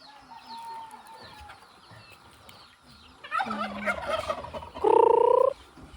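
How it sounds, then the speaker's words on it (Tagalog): Chickens on a farm cluck and gobble nearby, quiet at first, then a burst of loud squawking calls toward the end. "Ang dami na naming manok."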